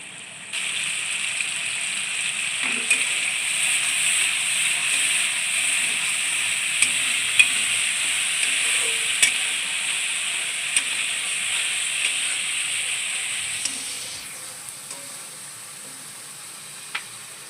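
Spice-washed water tipped into a hot pan sets off a steady, bright sizzle and hiss that holds for most of the time before easing off near the end, with a few faint clinks in the background.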